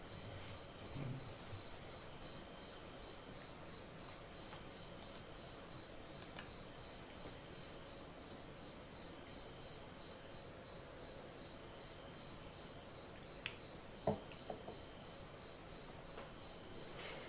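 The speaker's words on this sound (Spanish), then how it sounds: "Están cantando los grillos por ustedes." Crickets chirping in a steady, pulsing rhythm throughout, a continuous night chorus at moderate distance with a few faint clicks in the background.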